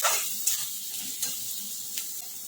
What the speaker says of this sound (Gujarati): એમાં કોબીજ સમારેલું એડ કરીશું મિક્સ કરી લઈશું અને હવે શેકા દઈશું થોડી વાર